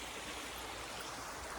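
A little stream flows over rocks on a desert hiking trail, a steady broadband rush and gurgle that stays faint and even throughout, with no voices.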